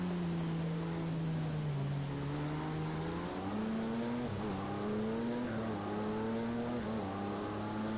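On-board engine of a racing car lapping Monza in an endurance race, a steady loud drone rising through the gears with shifts and brief dips under braking, continuous throughout.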